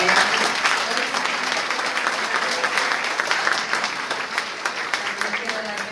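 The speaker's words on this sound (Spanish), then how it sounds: "démosle un fuerte aplauso" A church congregation claps to welcome a woman named Wendy, a lively burst of many hands that is loudest at the start and thins slightly toward the end, with voices faintly underneath.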